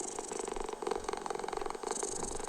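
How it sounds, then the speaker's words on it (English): Cat purring from a white noise app, a steady rhythmic rumbling purr with soft pulsing breaths, continuous and fairly close throughout. "Oh, kitty purring."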